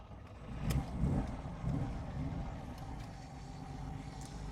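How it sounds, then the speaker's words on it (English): A 1972 Ferrari 246 GT Dino engine cold-starts, giving a steady, close mid-range rumble with a few early surges of revving that settle into an even idle, heard from inside the car. "here's our cold start"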